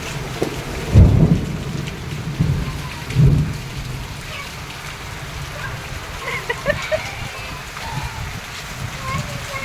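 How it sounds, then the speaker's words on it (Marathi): Heavy monsoon rain pours steadily on surfaces, a dense hiss broken by a couple of low thunder rumbles early on, with faint voices in the background. "एकदम भारी पाऊस आज पडलेला आहे"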